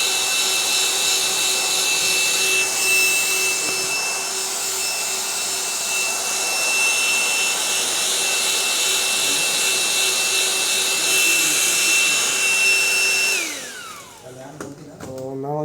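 A laboratory dryer blows a steady, loud whir to dry the solvent off an HPTLC plate spotted with a benzophenone and benzhydrol mixture, running continuously for about thirteen seconds before winding down and stopping.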